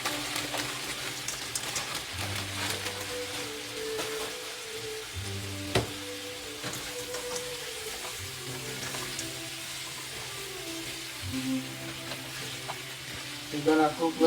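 Half a pound of frozen organic chopped spinach cooks in a pan, a steady crackling sizzle with scattered pops and a few clanks from the utensil, and no talking.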